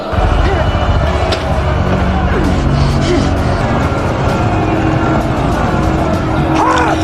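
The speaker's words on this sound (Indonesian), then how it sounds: "Lalu Deckard dan Hobbs pun mengejarnya dengan sebuah mobil." Loud, continuous roar of car engines racing along in a car chase from the film Hobbs & Shaw, with occasional tire squeals and rattling impacts over a dense, busy mix.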